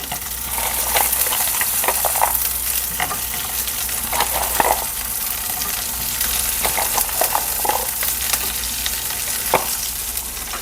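Whole garlic cloves fry in hot oil, giving a loud, steady, close sizzle with crackling bursts and occasional stirring scrapes throughout.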